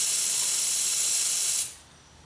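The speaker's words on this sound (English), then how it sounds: "I'm going to go ahead and flood this engine with some starting fluid" Starting fluid hisses from an aerosol can into the engine bay of a 1987 Toyota MR2, a close, steady spray for about a second and a half that cuts off sharply.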